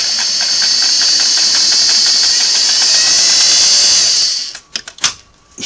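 A Sweetness 401A sewing machine stitches through four layers of 12-ounce denim with a steady, fast, whirring run of about four seconds, then stops, leaving a few soft clunks and knocks.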